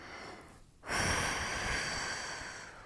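A strong, close exhale during a stretching exercise for lower-back pain rushes out suddenly after a brief quiet pause and trails off slowly.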